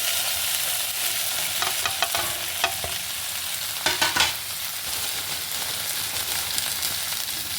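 Green chillies and mustard seeds fry in a pan for a capsicum and potato palya, giving a steady crackling sizzle with a few sharp pops and spatters. Bursts of clinking stirring come through near the middle, and there is no talking.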